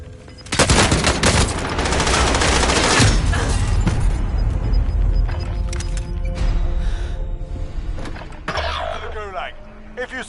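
Dense, loud gunfire from Call of Duty: Warzone played on PS5, with rapid bursts and booms filling the stretch, and voices talking over the battle.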